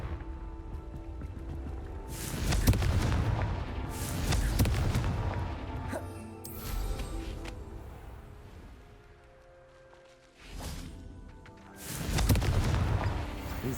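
Deep booming blasts from the Confringo fire spell in the Hogwarts Legacy game, several heavy explosions arriving in an uneven sequence over a steady low rumble, each rising and then dying away.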